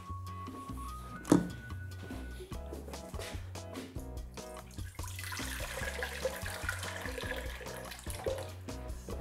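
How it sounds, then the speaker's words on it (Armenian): Warm water is poured into a bowl for softening rice paper for spring rolls, a clunk of the bowl early on followed by a steady splashing pour that grows fuller toward the end. "լցնում ենք գոլ ջուր"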